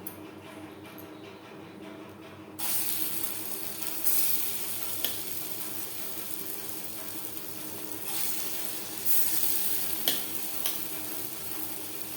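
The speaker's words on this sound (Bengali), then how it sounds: "সবার প্রথমে আমি ডালের বড়া ভেজে নেব" Pea lentil fritters (dal bora) of ground matar dal with salt, turmeric and nigella seeds frying in oil, a steady close sizzle that swells louder after a quieter start, with occasional soft clicks and stirs.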